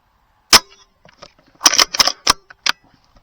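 Air rifle shots and clicks while pigeon hunting in the evening woods: several sharp, close, quiet-backed reports and mechanical clacks spaced irregularly, alone without talk.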